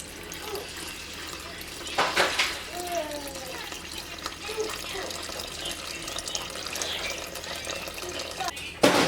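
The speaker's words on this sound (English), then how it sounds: "Now we do 310 grams of warm water" Warm water, 310 grams, running into a sourdough mix on a kitchen scale, a steady faucet-like trickle with a few small splashes and a clunk near the end, heard alone without talk.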